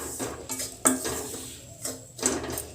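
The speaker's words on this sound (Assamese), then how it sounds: "ভালকৈ লৰাই ল'ব লাগিব" A spoon or spatula stirs spice masala frying in a pan, giving a few sparse metallic scrapes and clinks against the pan at an irregular pace, close and fairly quiet.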